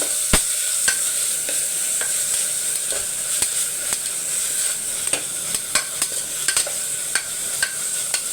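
Onion sautéing in oil on a stovetop with the flame just turned off, a steady soft sizzle broken by sharp, irregular clicks of stirring, close and alone without any talk.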